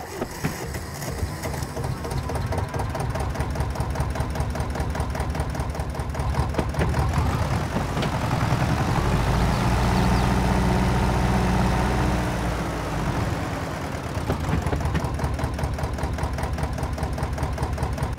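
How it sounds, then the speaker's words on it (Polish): An Antonio Carraro articulated tractor idles in Farming Simulator 22, a steady low putt-putt engine rumble that runs unbroken for about eighteen seconds, thickening and growing a little louder through the middle before settling back to the same even chug. "Podoba mi się dźwięk tego ciągniczka na wolnych obrotach, takie wiecie, pyrkanie, które kojarzy się z jakimiś takimi starszymi ciągnikami"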